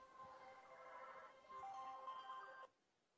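A phone's news alert notification sounds in a lecture hall, a steady electronic tone pattern rising partway through and stopping abruptly, loud and alone without speech.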